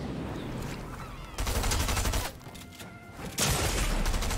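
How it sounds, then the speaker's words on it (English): Gunfire in Fortnite crackles in fast bursts, with two dense volleys separated by a short lull, fairly faint and mixed with game ambience. "You sure you want to shoot me right now?"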